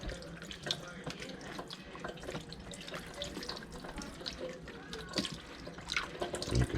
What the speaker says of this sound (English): I like to hold it under the running water